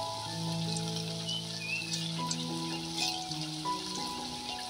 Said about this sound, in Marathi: आता तेलामध्ये ह्या बिट्ट्या मी सोडून देते